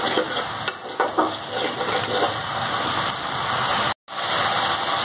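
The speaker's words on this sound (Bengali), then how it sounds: "তারপর সয়াবিন গুঁড়ি এবং আলুটা যেটা ফ্রাই করে রেখেছি এখানে ফেলে দেব।" Soya chunks and fried potato are stirred into spices frying in oil, giving a loud, continuous close-up sizzle with scraping stir sounds and one brief drop to silence near the end.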